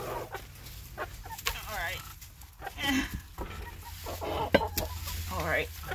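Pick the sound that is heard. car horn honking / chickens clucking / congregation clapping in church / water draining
chickens clucking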